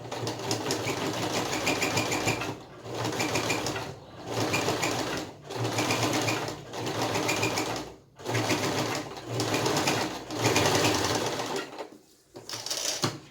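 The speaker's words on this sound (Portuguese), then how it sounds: "Vamos tentar colocar essa costura bem na beiradinha." A sewing machine stitching along the edge of a fabric pocket, running in steady rapid bursts of a couple of seconds each with short pauses between, close and loud with no talk.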